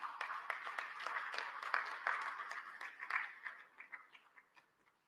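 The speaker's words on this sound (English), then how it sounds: "May I please request that we have 2 rounds of applause for our co-chairpersons" A room full of people clapping steadily for the co-chairpersons at a summit's official opening ceremony, the applause holding for a few seconds before thinning out into scattered claps and fading away.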